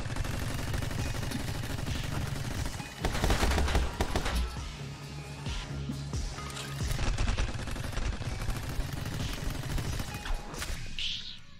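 Rapid bursts of turret gunfire from the video game My Friend Pedro rattle in dense, overlapping volleys with a heavier cluster midway, loud and close with no talking.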